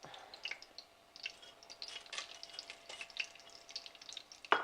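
Whole masala spices crackling and sizzling in hot ghee in a pan for Hyderabadi mutton dum biryani, with scattered sharp pops and spits over a soft frying hiss, plus occasional stirring and a louder clatter at the very end.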